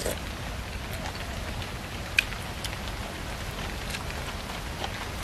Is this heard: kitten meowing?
no